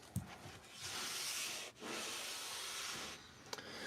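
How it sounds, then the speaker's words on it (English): Steady abrasive rubbing with a hissy, scraping texture as a sanding belt cleaner stick is pressed against a running sanding belt in a skateboard deck workshop, broken by a brief pause and a few knocks. "This is what we clean it off with. It's sanding belt cleaner."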